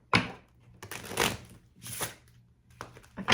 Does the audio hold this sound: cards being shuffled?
yes